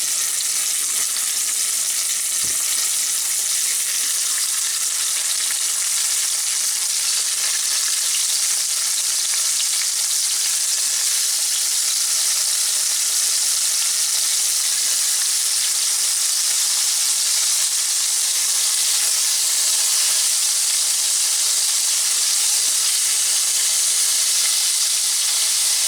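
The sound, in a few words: squirrel meat frying in a pan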